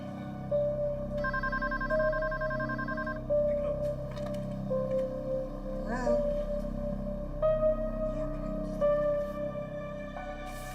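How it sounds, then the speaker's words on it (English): A telephone rings repeatedly at home, bright electronic trills in regular bursts with short pauses between them, fairly clear over a low background hum. "Come on, get up and get the phone."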